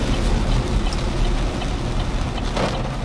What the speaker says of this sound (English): This rain is so bad.